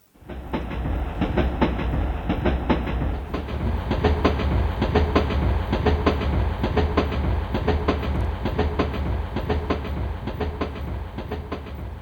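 Train-running sound effect played in a stage play, a loud continuous rumble with rapid rhythmic clickety-clack of wheels on rails, steady throughout after a quick start.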